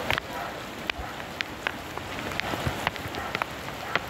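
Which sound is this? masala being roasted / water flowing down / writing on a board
water flowing down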